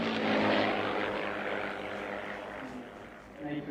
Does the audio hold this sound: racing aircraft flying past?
yes